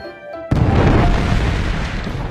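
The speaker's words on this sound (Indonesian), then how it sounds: "Dan setelah meledak" After a brief quiet tone, a sudden loud anime explosion blast erupts and rolls on as a sustained, rumbling roar.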